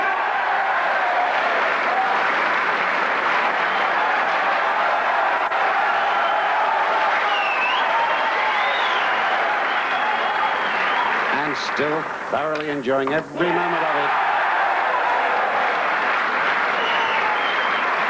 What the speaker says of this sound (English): The crowd here at the Crucible are going mad for Bradford's Joe Johnson